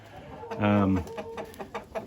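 Blue laced red Wyandotte chickens in a barn pen give one loud, drawn-out clucking call close by, followed by softer scattered clucks and a faint voice in the background.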